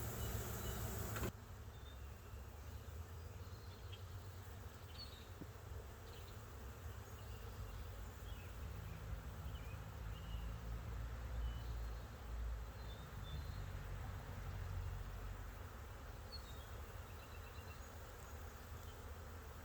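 Honey bees in a freshly caught swarm colony drone in a steady, continuous hum, close and even throughout, with no other sounds breaking in.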